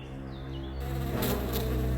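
A swarm of bees buzzing loudly and steadily, a dense continuous drone that swells slightly louder partway through and holds alone with no voices.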